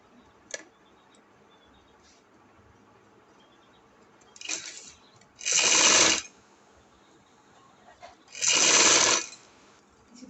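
A sewing machine stitches an angrakha frock in loud whirring bursts: a brief run, then two longer runs of about a second each, separated by quiet pauses.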